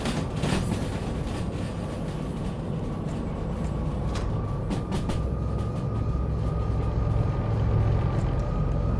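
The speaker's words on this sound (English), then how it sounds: "I am loving the sound of those locos at the back" Locomotives at front and rear haul a heavy ore train in the Derail Valley train game, a steady loud diesel rumble and rolling rail noise throughout with a sharp clank early on.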